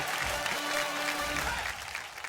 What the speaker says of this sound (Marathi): एकदा जोरदार टाळ्या होऊन जाऊ दे.